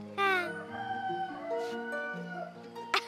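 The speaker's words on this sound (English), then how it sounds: "The rooster alarm clock crowed." A rooster alarm clock crows at dawn in a cartoon morning scene, a bright stretched call followed by shorter tonal calls and a brief sharp burst at the end, fairly loud and close.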